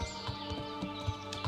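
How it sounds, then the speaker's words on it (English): Horse hooves clop in an uneven, repeated gait in the medieval game Kingdom Come: Deliverance, close and moderately loud over a steady ambient bed, with no clear neigh. "so my horse is going everywhere, but it's fine"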